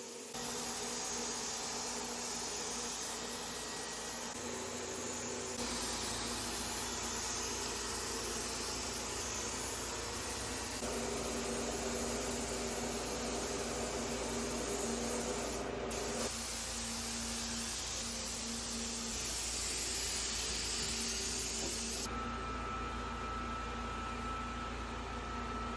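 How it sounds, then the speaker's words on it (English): A spray gun hisses steadily and close up as paint goes onto a classic Mercedes 190SL in a workshop, in long continuous passes with slight shifts in tone and no talk. "when I finally apply the paint, I normally go for a light coat, followed by 3 even heavy coats."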